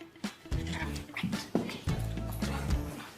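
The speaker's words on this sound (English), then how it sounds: "whose dog is this?" A dog at an indoor tech-hub gathering makes short vocal sounds mixed in with people talking nearby, at moderate loudness.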